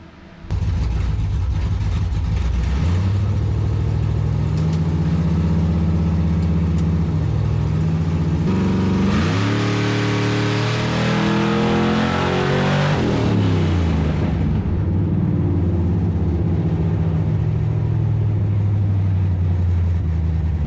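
A Whipple-supercharged engine in a G-body car, tuned with a Holley Terminator X, runs loud and close on a dyno: a constant roar whose revs climb in a sweep midway, then drop back and settle.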